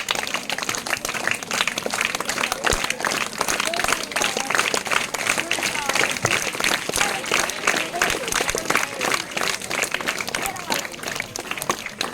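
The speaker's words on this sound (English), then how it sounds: "Not stop clapping your hands. It's an encouragement for them." An audience claps steadily at a school academic excellence award ceremony for classes 4 to 9, the dense applause continuing for the whole stretch while a voice speaks over it.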